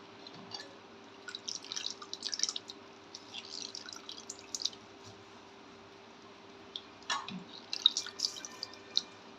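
Boiled meal maker soy chunks squeezed by hand to press out the water, producing bursts of close dripping and squishy trickles in two main spells with a quieter gap between.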